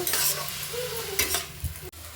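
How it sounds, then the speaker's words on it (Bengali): Potatoes fry in oil in a pan, with a short burst of close sizzling and the scrape of stirring. A few soft clacks from a utensil are mixed in. "আমি এবার আলুটাকে ভেজে নেব"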